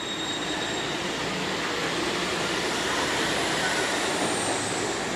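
A V/Line VLocity train comes through a tunnel into a station platform, its steady, loud rail roar and wheel noise filling the whole stretch with no pause.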